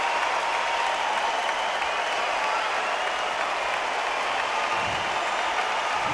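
Boxing arena crowd in the Undisputed video game, a continuous dense wash of cheering and applause holding steady throughout, with no clear voices over it.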